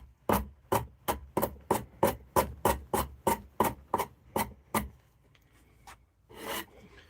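A Shinto rasp files wood in about fifteen even, rhythmic strokes, each a sharp rasping scrape close by, before stopping with a brief scuff afterward.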